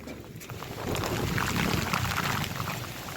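Monsoon rain pouring down at a farm with cattle and buffaloes, a dense broadband hiss of falling and flowing water swelling louder midway, steady and close, with no voices.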